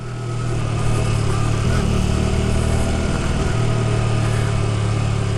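A Hyosung Aquila 125cc motorcycle engine running with a loud, steady low hum and a slight rise in pitch midway, close and alone.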